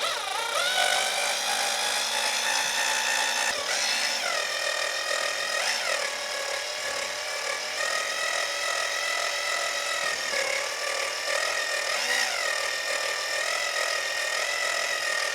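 A power drill spins steadily while mixing creamed honey, a continuous whirring whine that shifts in pitch slightly as the load changes, close and loud throughout.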